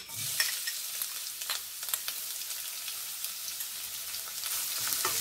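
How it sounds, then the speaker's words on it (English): Cumin seeds, bay leaf, cardamom and sliced onion sauté in oil in a wok, a soft steady sizzle with light stirring scrapes and occasional small crackles, fairly quiet and close, without talk. "Add cumin seeds, bay leaf and cardamom and sliced onion."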